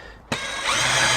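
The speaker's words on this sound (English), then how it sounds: "This is quite a rusty 22mm drill bit. We just simply drill one hole there" A power drill fitted with a rusty 22mm bit starts abruptly and bores a hole, a loud, steady grinding whine that thickens as the bit bites in, close and with no speech.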